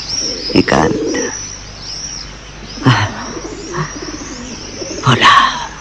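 Birds chirp, tweet and coo, a pigeon or dove among them, as an audiobook sound effect: bright calls repeat in bursts over a soft, steady outdoor bed, fairly close and with no talk.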